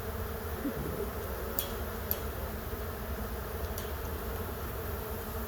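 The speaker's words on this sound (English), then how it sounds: "Now the bees are really starting to come out." Soft, continuous buzzing of honey bees around a Great Plains beekeeper's hive, a low droning hum with occasional faint clicks, no voices.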